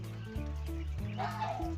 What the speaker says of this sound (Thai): ต้องขออภัยด้วยนะครับ เสียงห่านดังครับ